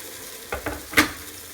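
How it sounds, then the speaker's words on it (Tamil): Three quick scraping strokes of a spoon stirring thick curry in a pot, close by, then quiet simmering. "அதனால் கொஞ்சம் சிம்மில் வச்சு கொஞ்சம் கலரிட்டே இருங்க."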